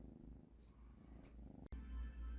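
Cat purring softly and close, a faint continuous rumble with a brief rustle partway through, no speech.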